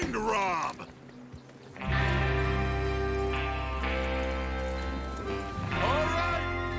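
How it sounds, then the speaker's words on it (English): Horses clip-clopping and galloping in Red Dead Redemption 2 as an outlaw gang sets out to rob a train, hoofbeats under game music with a brief whinny and a voice talking over it. "Get your horses ready."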